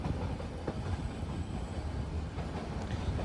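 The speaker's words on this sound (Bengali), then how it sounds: "ইউক্যালিপটাসের জঙ্গলের ভেতর থেকেই আমাদের এই ট্রেন ছুটে চলেছে কুনুরের উদ্দেশ্যে" Nilgiri toy train running through eucalyptus forest on the Ooty to Coonoor line, a steady moderate rumble of the moving carriages with faint rail clatter, continuous throughout with no talking.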